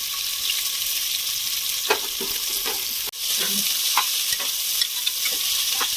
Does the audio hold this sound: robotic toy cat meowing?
no